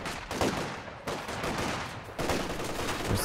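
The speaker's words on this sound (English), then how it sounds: "getting suppressed by the MG" Machine gun fire in the video game Company of Heroes 2, loud continuous bursts of automatic fire with brief gaps between volleys, dense and close, with no talk over it.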